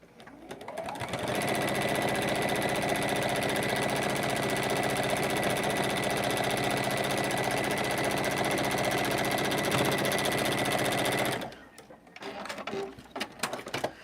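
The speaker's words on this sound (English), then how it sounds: "I want to make sure I can see the edge where I'm stitching." A sewing machine runs continuously at close range while top-stitching the edge of a scrappy fabric mini basket, a loud steady whirring drone that stops abruptly near the end, followed by a few faint handling clicks.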